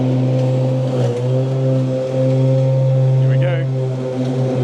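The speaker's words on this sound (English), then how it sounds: "we'll put it on blade, or the highest blade speed, and we'll go flat out" An electric zero-turn mower runs flat out with its blades at the highest speed, a loud steady whining hum with strong tonal bands, heard up close.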